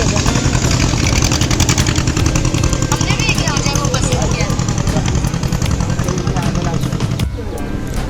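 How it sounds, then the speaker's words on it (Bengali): Boat engine on the waterways of the Sundarbans, a loud, continuous throbbing drone close by with a passing feel, while people talk over it. "তো ওই একটা বোট ওইদিকে যাচ্ছে"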